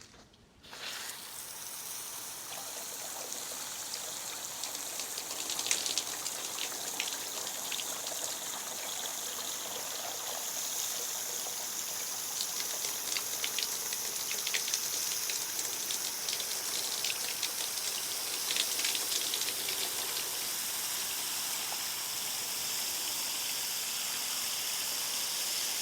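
Water pours and splashes steadily onto a gutter guard in a water test, a constant soft rushing trickle with faint dripping, unbroken for the whole stretch after a brief start.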